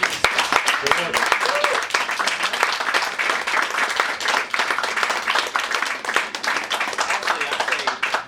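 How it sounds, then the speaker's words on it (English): A festival audience at a filmmakers' Q&A session in New York claps loudly and briskly, close, crisp individual hand claps forming a lively continuous burst throughout. "Round of applause for them, please"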